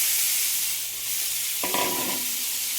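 Mustard seeds and cumin sizzle in hot oil as a spice mixture goes into the pan for a quick raw mango pickle, giving a steady close hiss that swells into crackling frying partway through.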